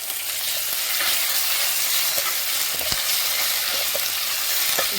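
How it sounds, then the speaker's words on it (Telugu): Ginger garlic paste frying in a pan for a fenugreek-leaf and lotus-seed biryani, a constant bright sizzle with small pops and crackles, close and loud, no voices. "ఇలా అల్లం వెల్లుల్లి పేస్ట్ కొంచెం వేగనిద్దాము"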